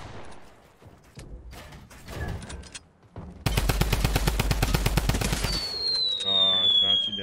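A fast, evenly spaced automatic weapon volley in Fortnite lasts about two seconds, loud and close. Quieter game sounds and a rising electronic tone surround it, and a voice speaks faintly beforehand.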